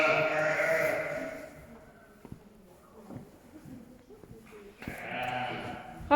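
A goat bleats loudly and nearby in a drawn-out wavering cry, falls quiet amid faint shuffling and small knocks, then bleats again near the end.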